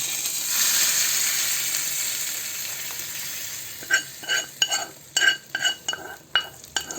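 Cumin seed tempering sizzles in a pan for a Bengali beef tripe bhuna, a steady close hiss at first, then giving way to a run of distinct scraping stirs against the pan.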